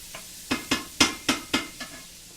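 Food cooking in a pan is scraped and stirred, six crisp, evenly spaced scraping strokes rising over a faint background sizzle.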